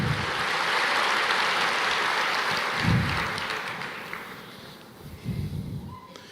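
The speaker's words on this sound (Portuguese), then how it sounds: "Você pode aplaudir o Senhor?" A church congregation applauds, dense clapping loud from the start that gradually fades, with a few lingering claps and low voices toward the end.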